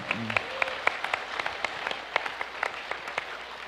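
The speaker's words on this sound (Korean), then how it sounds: "박수 한번 주십시오." An audience at a talk concert gives a round of applause, steady distant clapping with a few sharper individual claps standing out, a brief voice at the start.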